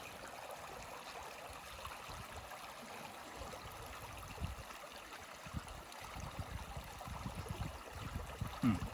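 A river flowing steadily, soft and fairly distant, a continuous wash of water with light gurgling, faint under a quiet outdoor campfire setting.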